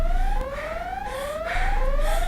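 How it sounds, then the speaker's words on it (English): A wailing siren sweeps up and down repeatedly over steady background noise, loud and continuous. "all she could hear was a constant din of alarms, bells, and sirens"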